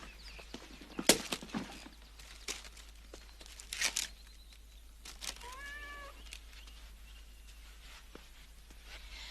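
A cat gives a single drawn-out meow in a quiet indoor scene from the 1977 horror film The Uncanny, set in a bedroom. Soft thumps and rustles come before and after it, and the whole clip is faint with no talking.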